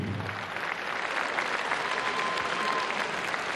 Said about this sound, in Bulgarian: Моля за вашите аплодисменти за Айджан Сезай!